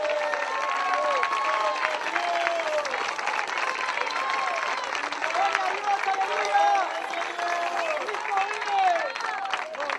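A congregation at a church sermon claps in praise, sustained dense applause with scattered cheers that fills the room, mixed with voices.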